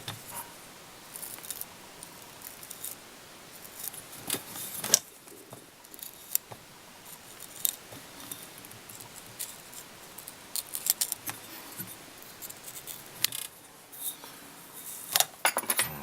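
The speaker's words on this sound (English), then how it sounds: "you can just use your scissors for the final bit of trimming" Quiet, close scissor snips trim deer hair on a fly-tying muddler, in irregular clusters of crisp cuts with pauses between.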